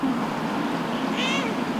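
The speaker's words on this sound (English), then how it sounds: "All these pets are purebred Siberian forest cats and are unlikely to cause an allergic" A purebred Siberian forest cat at a cat café gives a single short meow near the end, heard over a steady room murmur.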